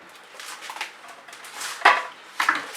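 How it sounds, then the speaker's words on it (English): Paint-covered plastic spatulas clatter into a bucket during an acrylic pour art session, giving two sharp knocks and rattles near the end over soft background handling noise. "All the spatulas with paint on them can go into the bucket."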